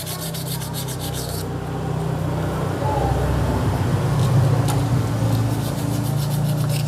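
Steady rubbing and rasping as a worn Vespa clutch surface on a 1964 Vespa Super VBB is cleaned and smoothed flat, a continuous close scraping that swells slightly louder midway, with no talking.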